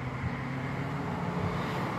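Road traffic passing outdoors makes a steady, continuous low rumble and wash of noise, unbroken and even in loudness throughout, with no talking.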